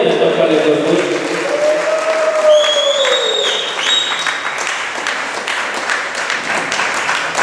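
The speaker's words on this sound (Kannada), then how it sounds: "ಜೋರಾದ ಚಪ್ಪಾಳೆ ಕೊಟ್ಟು" Loud audience applause at a charity fund handover event, sustained clapping from a crowd that fills the whole stretch, with a voice heard briefly at the start.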